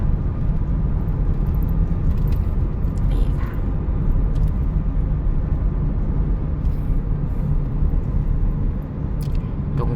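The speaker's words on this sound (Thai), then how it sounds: "ดิฉันกับฟาวขับรถไปค่ะ ขับรถไปเรื่อยนะคะ" Car driving along a road between Bueng Kan and Nong Khai, a steady low rumble of engine and road noise heard from inside, continuous throughout with brief faint bumps.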